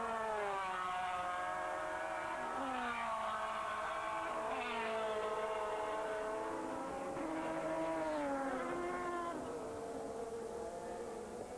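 Race cars from a 2002 FIA GT race, Ferrari 360s and Porsches, roar past with high engine notes that rise and fall in pitch as several cars pass in succession, steady and fairly loud.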